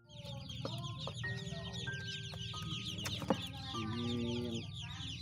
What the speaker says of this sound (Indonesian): Sekarang saya berada di tempat penjualan anak bebek.